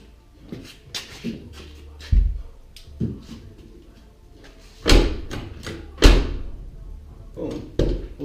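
Several dull thuds and clunks of a 1995 GMC Sierra truck door being worked and shut after door pin replacement, with two louder slams near the end amid light handling noise.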